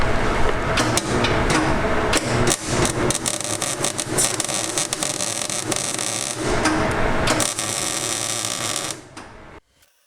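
MIG welding on a car exhaust pipe with .030 wire and argon shielding gas makes loud, continuous crackling buzz in stop-start stitches, with short breaks between bursts before it cuts off near the end.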